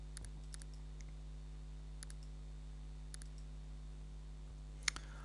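Sparse, crisp mouse clicks from CAD software while preparing a sheet-metal drawing, a few isolated single and double clicks spread over a quiet, steady room hum, with one sharper click near the end.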